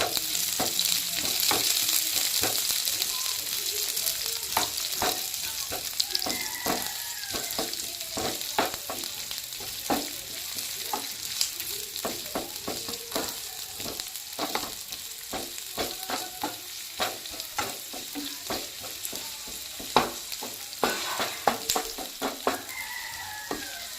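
Chopped onion sizzling in hot oil for red amaranth greens (lal shak) bhaji, with steady frying hiss and frequent sharp clicks of a spatula stirring and scraping the pan throughout, close and fairly loud, no talking.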